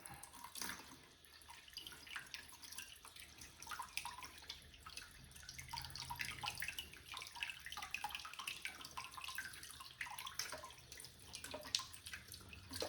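Tap water runs steadily into a sink while a horseneck clam is rinsed, a continuous close splashing stream with small drips and fluctuations throughout.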